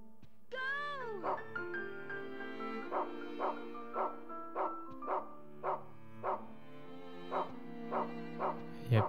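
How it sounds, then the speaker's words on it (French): Dog in the video game Rule of Rose barking in a steady, repeated rhythm of about a dozen yips and barks, opening with a drawn-out whimper, close and clear over faint background music. "Qu'est-ce qui se passe quand il aboie?"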